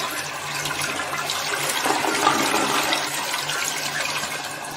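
A toilet flushing, a steady rushing gush of water that keeps on at even loudness throughout, close by, with no voices.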